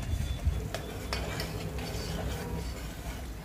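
Ghee sizzling and crackling in a pressure cooker as a spoon stirs through the browning residue, a steady close fry with repeated scraping clinks, no voices.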